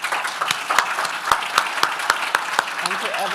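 An audience at the 33rd Baltic Valuation Conference applauds in steady, moderately loud clapping with sharp individual claps standing out, lasting a few seconds with faint voices underneath.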